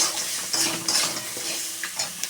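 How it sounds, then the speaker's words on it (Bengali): Crabs fry in a pan with a sprinkling of coriander powder, giving a steady close sizzle broken by a few sharp scrapes and clinks of stirring. "কি সুন্দর ভেজে গেছি কাঁকড়াগুলো।"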